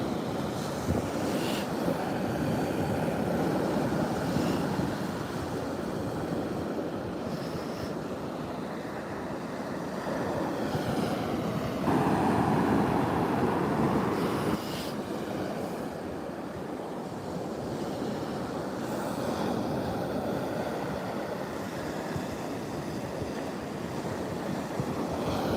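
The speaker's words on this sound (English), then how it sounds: "Hear the sounds of the ocean." Steady rush of ocean surf breaking on a beach, with gusty wind buffeting the microphone throughout; no voices.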